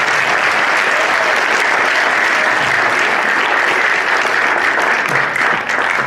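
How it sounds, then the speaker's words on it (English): Loud, sustained applause from a school assembly audience cheering the student presenters, a dense wash of clapping that holds steady for several seconds with no talk over it. "Can we please give a big round of applause for all of the presenters today?"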